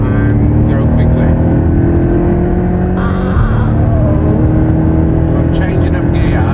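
Porsche Cayman T engine pulling hard through paddle-shifted upshifts toward 90 mph, a loud steady drone with a clear pitch drop and shift break midway, heard from inside the cabin.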